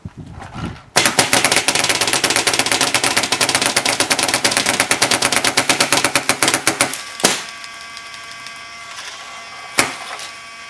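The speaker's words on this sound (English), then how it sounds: "So I'm just going to fire out the rest of these shots." An Ego 11 paintball marker with a rotor-fed hopper fires a long, fast string of sharp shots in a steady rattling burst, then a few isolated single shots trail off after it, with no talking.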